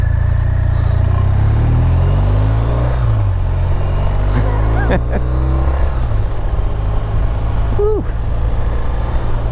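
A 2018 BMW RT-LTD demo motorcycle engine runs loud and close, a steady low rumble with rising revs, and a rider briefly exclaims over it.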